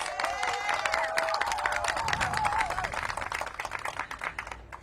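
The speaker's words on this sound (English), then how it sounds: "Give them a big round of applause." An audience at a city mayor's neighborhood event breaks into dense, sustained clapping with a few cheers and whoops, loud and steady before thinning out toward the end.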